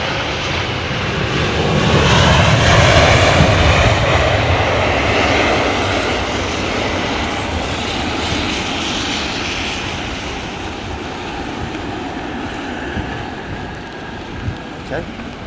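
A passenger aircraft lands at London Heathrow in the rain, with a loud, steady engine roar and rushing airflow that swells early and then holds. A voice talks over the noise.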